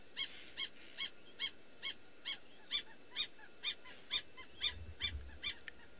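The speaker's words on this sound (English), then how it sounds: "It's called a wattled lapwing. Just listen to her." A wattled lapwing calls repeatedly on a safari outing, with sharp, evenly spaced piercing notes about every half second, clear and moderately close, over a steady outdoor background hiss.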